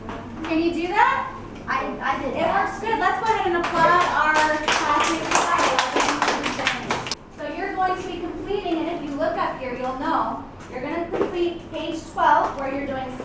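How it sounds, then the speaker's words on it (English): Classroom applause for classmates: a burst of children clapping in the middle, with kids chattering and a teacher speaking before and after. "Let's go ahead and applaud our classmates."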